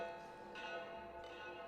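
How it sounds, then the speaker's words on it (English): A bell rings in the Pathologic 3 game, a faint, sustained metallic tone with lingering overtones and a couple of soft fresh strikes, heard alone without talking. "Look at you, showing up and ringing the bell."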